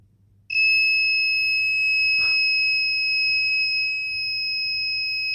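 An Arduino gas leakage detector built with an MQ2 sensor sets off its buzzer: a loud, steady high-pitched electronic tone that starts abruptly and holds continuously, with one brief rustle partway through.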